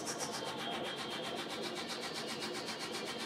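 A LaserPro Explorer 2 laser engraver marks anodized aluminum at low power, giving a quiet, rapid rhythmic rasping from the head sweeping back and forth, pulsing evenly and steadily throughout.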